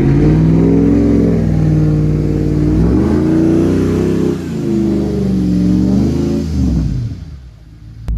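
A car engine revving hard while in drive without the car moving, a loud, close, sustained mechanical drone that rises and falls in pitch several times before dropping away at the end.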